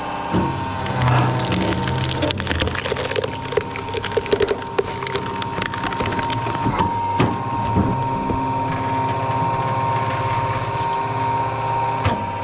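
A homemade hydraulic log splitter runs with a steady mechanical hum while wood cracks and splinters in sharp bursts as logs are split for a bathhouse, loud and close throughout.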